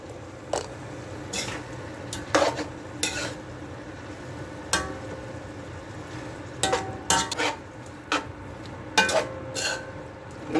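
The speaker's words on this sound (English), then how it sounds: "I'm going to stir it together" Cabbage and chicken stirred in a pot, a utensil scraping and clinking against the pot in irregular bursts over a soft steady sizzle, close and fairly quiet.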